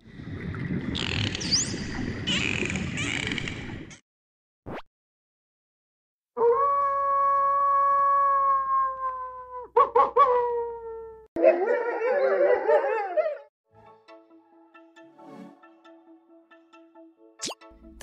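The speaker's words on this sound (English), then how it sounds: "The right answer is A, a wolf." A wolf howls in long, steady tones lasting several seconds, amid other sounds including mixed calls before and after, a sharp plop, and faint rhythmic beeping near the end.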